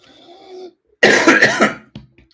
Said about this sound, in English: Got a chesty cough coming.